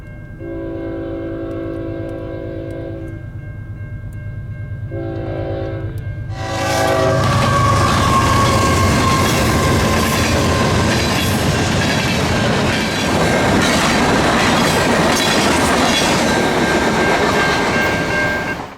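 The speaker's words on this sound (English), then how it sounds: "a CN manifest appeared with a Dash 9 trailing" A CN manifest freight train led by a Dash 9 locomotive passing a grade crossing: two horn blasts sound, then a loud, close rumble of the locomotive and rolling freight cars with rhythmic wheel clatter.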